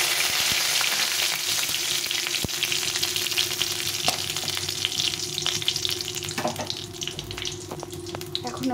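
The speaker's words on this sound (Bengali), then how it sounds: "শুকনো লঙ্কা, তেজপাতা, এটা ফোড়নে দিয়ে দেবো।" Dried red chillies and bay leaf, with cinnamon and cardamom, tempering in hot oil for a pointed gourd curry, giving a close, continuous crackling sizzle with a few sharp pops and utensil taps.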